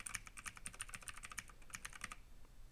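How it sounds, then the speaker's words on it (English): Steady, fast typing on a mechanical keyboard with blue switches, a dense run of crisp clicky keystrokes picked up faintly by a gaming headset microphone, with no talking. "So if I do a little bit of typing here with my mechanical keyboard, which is using blue switches"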